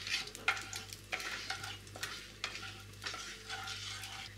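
Whole spices frying in hot oil in a pan for a steamed egg curry: cinnamon pieces, cardamom pods, a bay leaf, cumin seeds and four peppercorns. The steady close sizzle is broken by repeated scraping stir strokes, with no talking.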